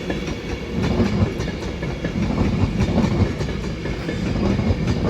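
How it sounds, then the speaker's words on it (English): Avanti West Coast Pendolino, unit 390039 on the Edinburgh to London Euston service, passing through Crewe on the West Coast Main Line; a loud, continuous rumble with rhythmic clickety-clack of wheels over rail joints, close by throughout. "Coming now is the 1404 Advantage West Coast service to London Euston from Edinburgh."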